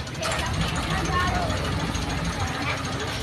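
Motorboat engine at a floating market, a steady close mid-pitched chugging drone under dense background chatter and voices throughout.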